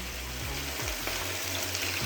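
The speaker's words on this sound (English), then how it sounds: "I hope you guys can hear me over the frying." Steady loud sizzling of chicken adobo frying in a pan, a continuous crackling hiss with low hum underneath and no voices.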